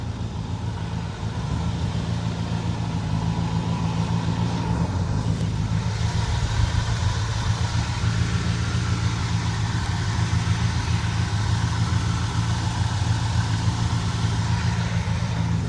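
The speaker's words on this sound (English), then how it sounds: "Engine sounds super smooth." A Ford F250 longbed 2WD classic truck with a 390 V8 and automatic transmission idles smoothly and steadily at close range, with a low, even engine hum throughout and no talking.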